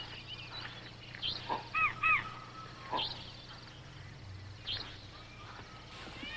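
Forest ambience with a few scattered bird calls, including two short whistled chirps and distant cawing cries, spaced over a quiet low background hum.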